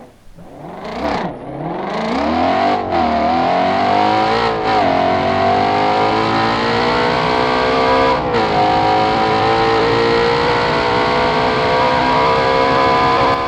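A Ford Mustang engine in BeamNG.drive revs up and holds at a loud, high roar, with a few gear-shift dips early before settling into a sustained whine.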